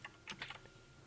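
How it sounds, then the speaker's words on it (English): Several quick, faint keystrokes tap on a computer keyboard in a short irregular burst, close but quiet, with no talking. "let's correct the opacity of the filled color by typing alpha"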